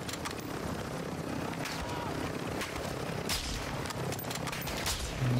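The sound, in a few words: helicopter flying in video game DMZ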